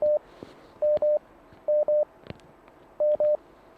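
Telephone line tones on a phone-in radio programme after a caller drops off: short, steady electronic beeps in pairs and singles at an even pitch, loud and clear against faint background hiss, with no talking.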